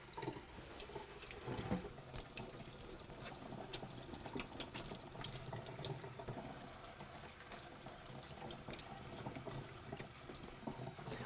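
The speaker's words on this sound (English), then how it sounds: "now we got the sink and we wash everything" Leeks being washed under a running kitchen sink tap, with a steady rush of water and splashing throughout.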